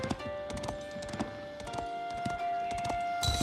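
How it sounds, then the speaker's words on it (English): Horse hooves clop in a fast galloping rhythm in a Normandy strategy game, a string of quick moderately loud thuds over a steady musical drone. "With each gallop of his horse's hooves, more of Guillaume's land was revealed to him."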